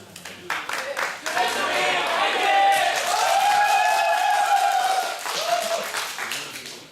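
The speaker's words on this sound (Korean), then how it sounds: "큰 박수로 맞이해 주시기 바랍니다." An audience claps in sustained applause to welcome a presenter onto the stage at a public-sector HRD contest final, swelling to a full, steady roar with tonal sounds ringing above it before easing off near the end.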